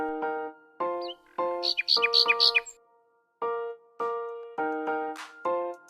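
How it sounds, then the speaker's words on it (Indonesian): Bird chirping in short harmonic bursts, several rapid high chirps and repeated clear calls separated by brief pauses, close and fairly loud with no talking. "burung"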